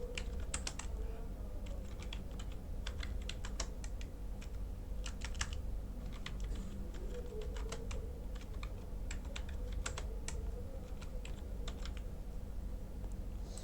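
Steady typing on a computer keyboard while entering a name in a quality-configuration form, brisk irregular key clicks over a low constant hum, close and unaccompanied by talk.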